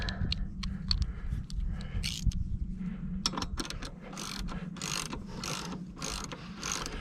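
A ratchet tightens HMF exhaust bolts on a 2019 Suzuki King Quad 750 ATV, giving rapid repeated clicking bursts in close-up with short pauses between runs.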